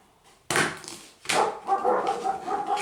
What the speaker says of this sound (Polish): moje psy tutaj już mnie denerwują